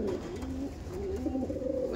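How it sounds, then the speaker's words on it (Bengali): Andhra Madras pigeons, freshly paired in a breeding loft, coo softly and continuously, their low, warbling calls overlapping close by. "এই সবে জোড়া বসানো পায়রা"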